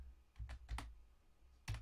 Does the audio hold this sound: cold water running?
no